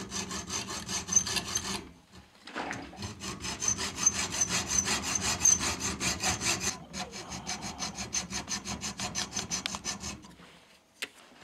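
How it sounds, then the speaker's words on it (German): Triangular file rasping into metal while making a tool for a Siemens Dynapower 1800 vacuum cleaner repair, heard as rapid rhythmic back-and-forth strokes, close and steady, with two brief pauses. "Wir feilen hier einfach rein."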